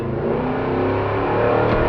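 A 1965 Chevrolet Chevelle's engine revs up steadily accelerating in first gear, its tone rising and loudening over two seconds, heard from inside the car with no talking.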